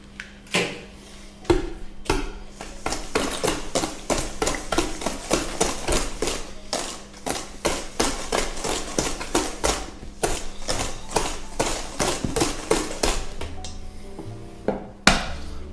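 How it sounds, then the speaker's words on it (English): Eggs being whisked in a bowl for banana bread, a fast steady run of rapid clicking strokes close up, continuing without pause and without talk. "just keep on whisking"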